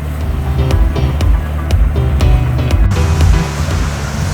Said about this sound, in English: A little ripply water, not too bad.